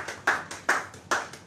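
Church congregation clapping in steady rhythm, four crisp claps spaced evenly across a short moment, moderately close and alone.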